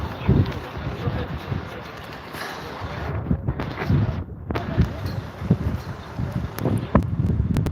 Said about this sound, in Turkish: Şuradan rüzgar var ya rüzgar.